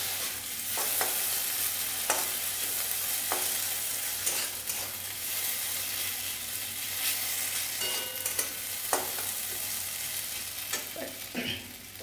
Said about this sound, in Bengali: গ্যাসটা বন্ধ করার আগে আমি আরও একটুখানি কাঁচা পোস্ত বাটা দিয়ে জাস্ট একটু নাড়াচাড়া করে